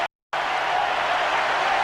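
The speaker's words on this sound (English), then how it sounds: "And the crowd erupts in applause." A large stadium crowd at Eden Gardens, Kolkata claps and cheers during an India versus Pakistan cricket match, a dense continuous wash of applause after a brief silent gap at the start.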